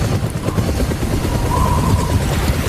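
A medevac helicopter at a military base in Afghanistan gives off a loud, steady rotor chop and rumble throughout, with a faint higher whine drifting in partway through.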